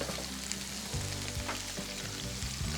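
Cheeseburger patties sizzle steadily on an Oklahoma Joe smoker as they are flipped, a loud, close, continuous frying hiss with a few soft scraping thumps.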